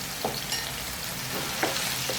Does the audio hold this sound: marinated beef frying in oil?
yes